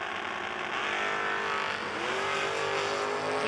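A dragster race car roars continuously at a drag racing event, its engine loud and sustained throughout.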